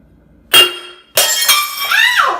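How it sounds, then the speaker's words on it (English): Glass deliberately smashed: a sharp crash, then a second, longer break with ringing, scattering shards and tinkling fragments settling, loud and close. "in order to show you guys how to clean up broken glass, I've got to make some"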